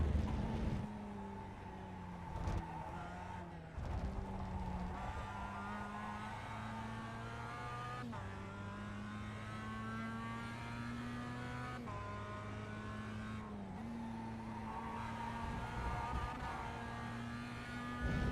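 Mazda MX5 race car engine at Zandvoort in a racing video game, a steady close in-car drone that climbs in pitch through each gear and drops sharply at several upshifts, continuous and moderately quiet.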